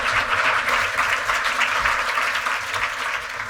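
A crowd applauds steadily throughout, a dense, sustained clapping from many hands that holds even and strong before easing slightly at the end.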